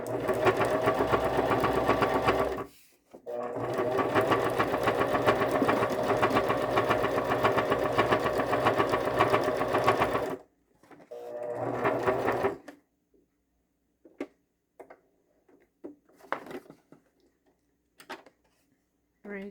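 A sewing machine running a straight stitch through 12x12 inch paper for a junk journal cover, loud and steady in two long runs, then a short burst, with brief faint clicks and pauses as the needle is raised and the work repositioned.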